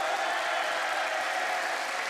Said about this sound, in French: applaudissements pour Josette, s'il vous plaît